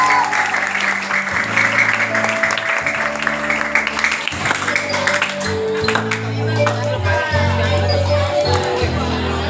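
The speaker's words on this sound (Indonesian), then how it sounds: "Tepuk tangan." Loud, sustained applause from a school audience after a short drama staged by teachers for National Teachers' Day, dense clapping and crowd murmur running over steady sustained musical tones.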